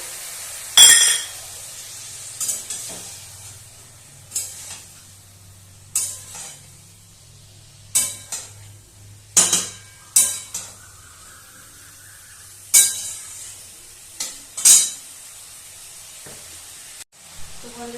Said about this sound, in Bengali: একটু হালকা হাতে একবার নাড়াচাড়া করে নেব